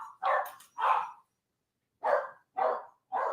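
A dog barks five times, loud and close, in two short groups with a pause between, and no talk over it.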